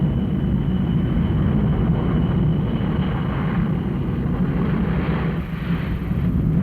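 Engines of the Boeing 707 prototype jet airliner produce a loud, continuous, low roaring rumble that holds steady the whole time, heard close and alone.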